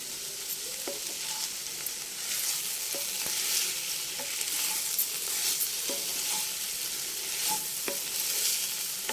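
Black-eyed pea stir-fry sizzles softly in a pan as chili powder and salt are mixed in, with a continuous bright hiss and occasional light spatula taps and scrapes, close and alone without speech.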